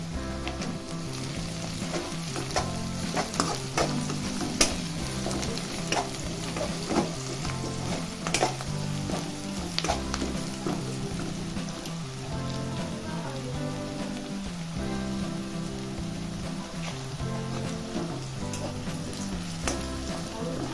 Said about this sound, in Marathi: हा चांगला गोल्डन होईपर्यंत भाजून घ्यायचा आहे कांदा